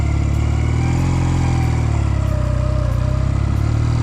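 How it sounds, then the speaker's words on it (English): Steady motorcycle engine given a little gas while the rider slips the clutch for a takeoff, a loud, continuous mid-pitched hum that rises slightly and holds, close by with no voices. "now give it a little bit of gas as you slip the clutch"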